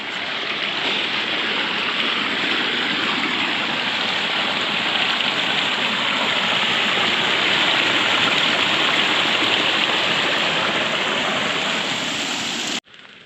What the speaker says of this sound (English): Got a waterfall over there.